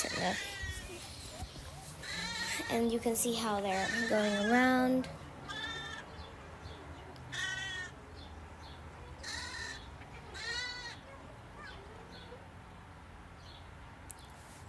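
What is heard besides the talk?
baby sheep bleating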